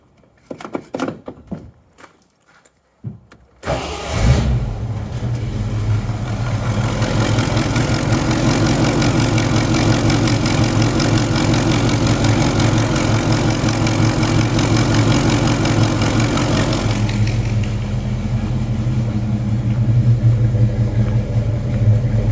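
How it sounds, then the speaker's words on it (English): A car engine with a small exhaust header leak starts after a few scattered clunks, then settles into a steady, close, rumbling idle that shifts in tone near the end. "Runs a whole lot better. Got a little bit of a header leak."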